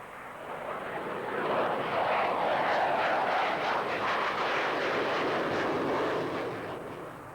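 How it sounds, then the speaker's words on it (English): An F-16 fighter jet passes overhead, a loud broadband roar that swells over the first second, holds strong and steady, then starts to fade toward the end, with no voices over it. "One of NATO's crack frontline fighters,"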